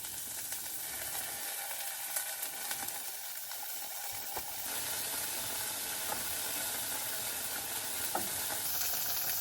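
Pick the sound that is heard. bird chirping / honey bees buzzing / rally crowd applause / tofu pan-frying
tofu pan-frying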